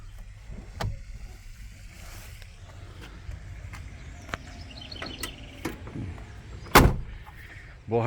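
A Ford F1000 double-cab pickup door fitted with new rubber seals shuts with one solid thump near the end, after quieter handling knocks and clicks, close and with no talk.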